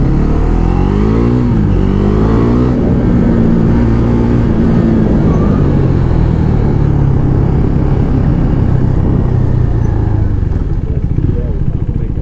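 A Husqvarna Svartpilen 401 motorcycle accelerates, its engine note climbing steadily through the gears in a close, loud, continuous drone under heavy wind rush.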